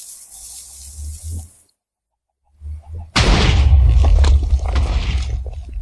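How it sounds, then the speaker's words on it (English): A cannon fires with enclosed charges detonating: a quiet low rumble, a moment of silence, a soft thump, then a sudden loud blast whose rumbling roar lingers close by. "There were definitely 2 explosions."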